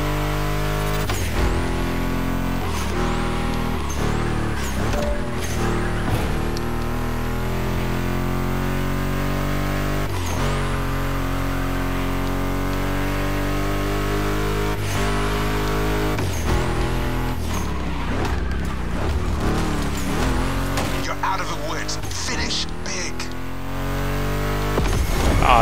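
Engines of off-road race cars in the PC racing game The Crew Motorfest roar steadily throughout, with shifting revs and gear changes layered over one another loud and continuous.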